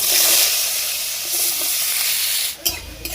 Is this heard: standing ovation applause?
no